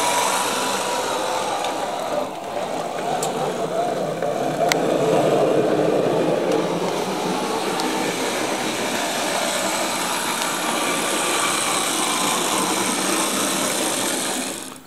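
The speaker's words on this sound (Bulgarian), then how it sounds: "Да пуснем една вратка на влакчето." A model train running steadily on a railway diorama with a mountain tunnel and terminal, its small motor giving a continuous buzzing whir with faint clicks over the track for the whole stretch.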